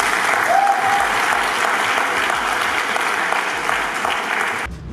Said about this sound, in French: Alors, encore un applaudissement pour lui.